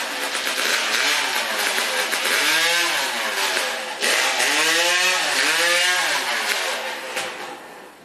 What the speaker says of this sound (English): Saw had been running well, but does not want to fire out of the gate.